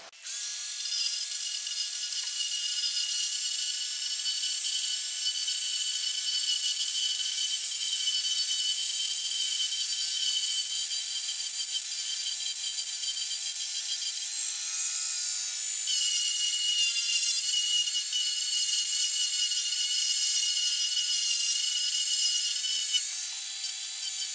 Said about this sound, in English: even with the fine grain or fine grit drum, it's taking off quite a bit of material